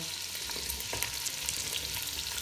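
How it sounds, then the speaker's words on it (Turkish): Chunks of meat sear in a pan as the first step of a dried bean stew, a dense, steady crackling sizzle with faint stirring scrapes, close up and without any voices. "Etlerimiz çok güzel mühürlendi."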